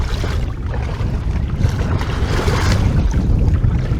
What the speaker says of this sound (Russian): в такие волны сейчас идем до Святого Носа